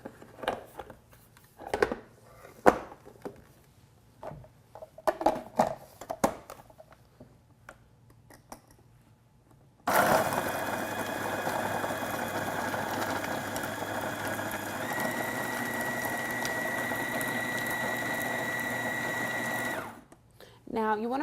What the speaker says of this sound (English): So we're just going to process that with the S-blade.